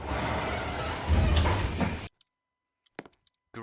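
Lift doors in a public apartment block slide shut with a smooth rushing swish that ends abruptly, followed by near silence and a few faint clicks and taps.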